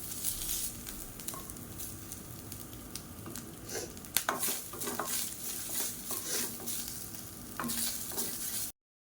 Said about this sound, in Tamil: இப்போ தேங்காயை சேர்த்து நல்லா வாசனை வர அளவுக்கு வதக்கிக்கலாம்